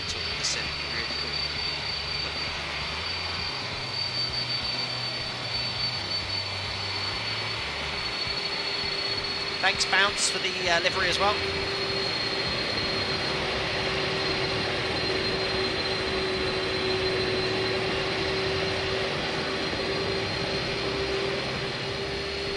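Airbus A300 engines in the X-Plane 11 flight simulator drone steadily with a thin high whine, and someone talks briefly over the hum midway.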